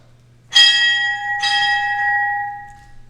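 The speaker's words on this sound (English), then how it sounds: "Sound 2 bells" Two strikes of a ship's bell at a United States Navy retirement ceremony, rung in quick succession and left to ring out, clear and close against a quiet low hum.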